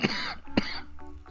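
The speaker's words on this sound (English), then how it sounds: "Coughing again." A person gives a sharp, close cough followed by a second harsh cough and a throat-clearing sound, loud and close, with no talk between them.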